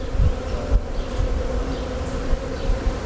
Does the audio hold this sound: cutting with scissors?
no